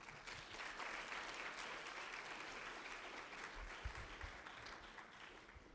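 Conference audience applauds panelists, a sustained, even patter of many hands clapping, moderately distant and faint in a large hall.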